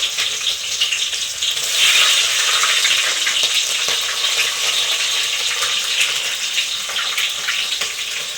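Onions and green chillies fry in a pan with a loud, steady hiss and crackle, a brief swell of stronger sizzling near the start, close up and without talk.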